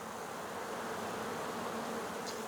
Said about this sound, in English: I will leave the package with any bees that didn't get out just right in front of the hive entrance.